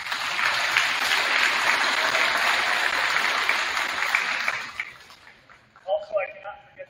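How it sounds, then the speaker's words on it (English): Banquet audience applauding assistant baseball coaches at a sports awards event, a dense sustained clapping that fades out after about five seconds, followed by a few scattered sounds and a voice beginning to speak. "Please give them a round of applause."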